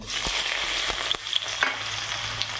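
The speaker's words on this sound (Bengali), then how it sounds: "এরপর মাছটাকে সুন্দর করে লাল লাল করে ভেজে নিলাম।" Tilapia fish sizzles steadily in hot oil, a constant crackling hiss broken by a few sharp pops and spits.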